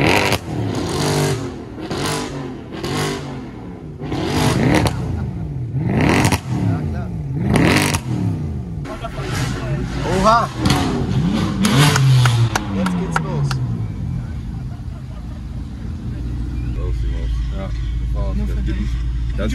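AMG and BMW cars rev at a car meet at Wörthersee, with repeated rising and falling engine revs, loud and close, and voices talking over them throughout.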